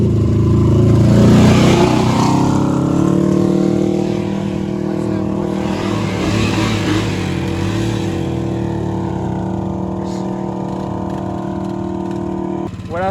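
A Honda Rubicon 500 ATV engine idles and runs steadily after a top end rebuild, a strong continuous hum with a faint rise near the start, while people talk over it.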